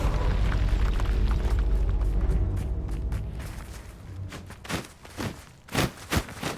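A Bombarda explosion spell in the Hogwarts Legacy video game, a loud rumbling blast that fades out, followed by several sharp crackling bursts and thuds.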